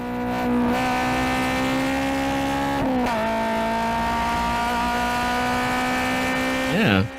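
A race car on Barber Motorsports Park holds a steady, buzzing engine drone, then drops pitch with quick downshift blips and braking, ending with a sharp rev-matched blip before the corner.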